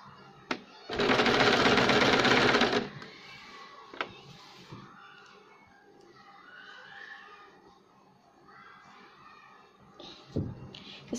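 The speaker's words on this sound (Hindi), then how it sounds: "अब इसे हम रॉन्ग साइड से यहाँ से सिलाई लगाएंगे इसको पूरे आर्म होल को।" A sewing machine stitches around the armhole of a baby girl's umbrella frock in one loud, close burst of rapid stitching lasting about two seconds, followed by quieter fabric handling and light knocks.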